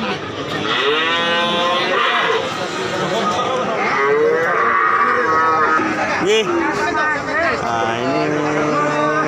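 A Simmental calf moos repeatedly at the Tuban cattle market, its calls rising and falling over a steady, busy crowd murmur and other livestock noise.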